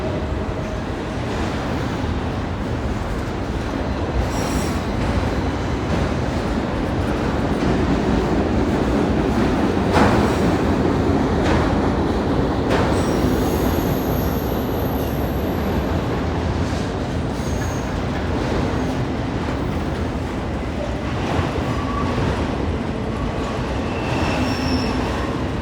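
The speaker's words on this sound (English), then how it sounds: "Wow, this train is long." A long Norfolk Southern coal train rumbles steadily beneath a trestle, with continuous heavy wheel and car noise, occasional metallic squeals and clicks, loud and close throughout with no speech.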